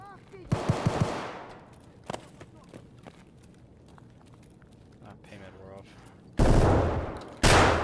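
Gunfire in the video game Escape from Tarkov: a rapid burst of close, loud shots opens, then quieter movement and footsteps, and two heavy, sustained volleys close it out.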